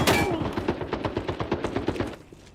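Rapid automatic gunfire in the video game Arena Breakout: Infinite, a steady burst of a dozen or more evenly spaced shots that ends in a sharp onset and fades out near the end.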